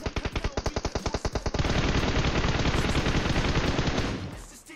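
A teammate fires shots in a battle royale video game: a fast string of loud, distinct gunshots gives way to a dense continuous burst of automatic fire that fades out near the end.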